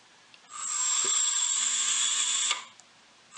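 A Nova lathe-type machine's motor hums at a steady high pitch for about two seconds, then cuts off abruptly as it shuts itself down after a catch, leaving near silence.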